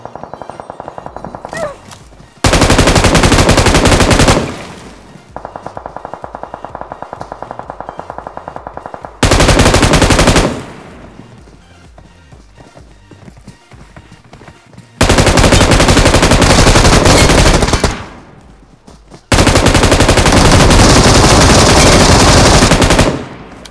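An M249 machine gun firing in a battle royale video game: several long, loud sustained bursts of rapid automatic fire, separated by brief pauses and lower background noise, with no speech over the shooting.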